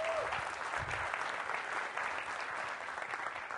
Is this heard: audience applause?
yes